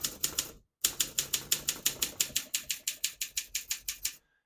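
Rapid, crisp keystrokes clatter from a 1958 Olympia SM3 portable typewriter, a brief burst, a short pause, then a long steady run of evenly spaced strikes up close before it stops.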